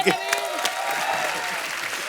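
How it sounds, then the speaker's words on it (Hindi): A studio audience on a Hindi TV comedy show bursts into applause, a loud wash of clapping with a few whoops and voices mixed in. "जोरदार तालियां"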